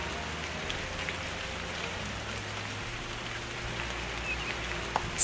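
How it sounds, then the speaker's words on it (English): Rain falls steadily in the video game Lunacy, a soft, even patter that stays quiet and constant with a faint low hum beneath it. "Some people love the rain"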